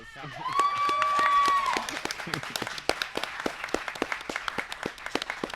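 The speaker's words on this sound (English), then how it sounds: "I think that deserves a round of applause." A small group claps during a Pride roundtable podcast, with scattered individual claps that follow an opening whoop-like vocal cry and then thin out into sparse, uneven taps.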